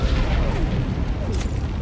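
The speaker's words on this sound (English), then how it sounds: "you gotta salute until the bomb explodes" Bomb blast in the video game Helldivers 2, a heavy, continuous rumbling boom that fills the short stretch with dense low-end roar and crackle, loud and close with no clear pause.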